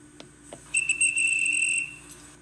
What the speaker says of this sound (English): We'll have an authentic conductor's whistle.